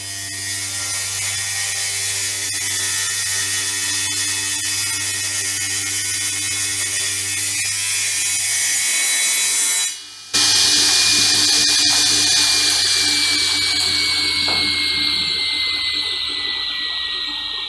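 A band saw whines steadily through wood, a brief break in the middle, then a bright rising tone as cutting resumes, loud and close.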